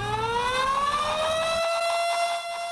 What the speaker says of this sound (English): the siren system